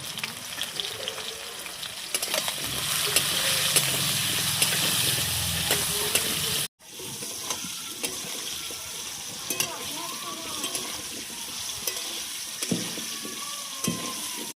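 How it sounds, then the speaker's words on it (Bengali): Potatoes frying in a pan with a little turmeric added, giving a steady close sizzle that swells in the first half, cuts off briefly, then carries on with stirring and clatter. "এখানে এখন আলু ভাজা চলছে"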